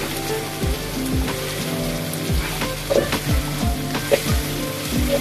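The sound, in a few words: garlic ginger paste frying with onions for chicken wing korma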